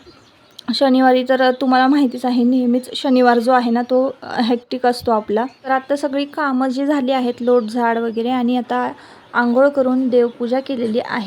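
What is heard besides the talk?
birds chirping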